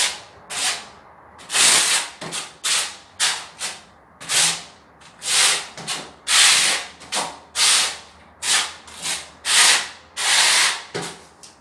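A 17mm notched steel trowel spreads and combs tile mortar across a drywall wall, with repeated rhythmic scraping strokes, each a loud, gritty swipe of about half a second, close and with no talking.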